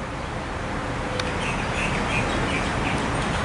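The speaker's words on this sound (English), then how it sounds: "Oh, there's a birdie" Small bird chirping outdoors among trees in Waikiki, Hawaii, a few light, faint calls rising over steady broadband outdoor background noise, with no talking.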